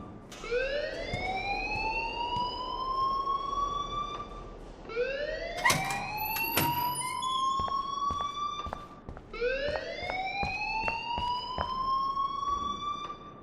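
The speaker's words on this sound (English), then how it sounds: "please turn off that alarm since that's your job" Alarm in the video game Life Is Strange, a rising electronic siren-like wail that sweeps upward three times in a repeating cycle, loud and sustained, with sharp clicks scattered through and no talking.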